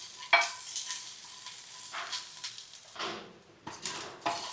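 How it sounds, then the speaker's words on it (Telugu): Sesame seeds, coconut pieces and green chillies frying in a pan for mint coconut chutney make a soft crackling sizzle. Intermittent scrapes and knocks of a spatula come through, close and gentle, with no talk. "ఇప్పుడు వీటిని కొంచెంసేపు వేయించుకుందాం."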